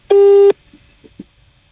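A call to an Airtel number fails to go through, giving one loud, clear electronic tone about half a second long, followed by a few faint clicks in near silence.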